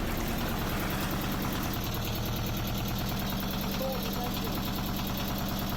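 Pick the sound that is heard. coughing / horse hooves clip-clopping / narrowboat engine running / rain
narrowboat engine running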